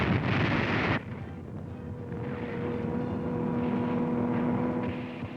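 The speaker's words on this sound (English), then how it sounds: "There's a Nazi dive bomber letting one go." A German Stuka dive bomber attacks in a 1943 WWII newsreel from North Africa: a loud roaring rush cuts off abruptly, then a sustained lower rumble with a faint whine lingers.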